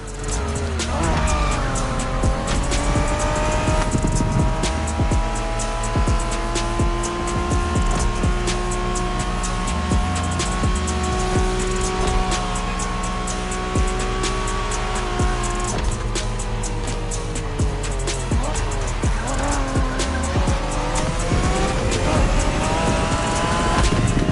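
In the video game The Crew Motorfest, a Honda NSX sports car engine drones and revs continuously while tires squeal through turns, with game-like music and a voice now and then underneath.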